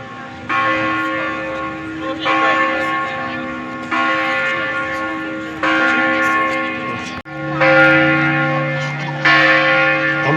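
Church bells ring out in a courtyard of an old town near Košice, Slovakia, a steady series of loud, resonant strikes with long overlapping hum, no talking over them.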